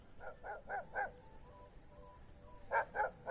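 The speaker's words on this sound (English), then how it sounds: "even on the other side of the lake, a dog has noted my presence and is getting a bit irate with me" A dog barks from across a lake, distant and faint: four quick barks in a row, a short pause with a faint tone, then a fresh burst of barking near the end.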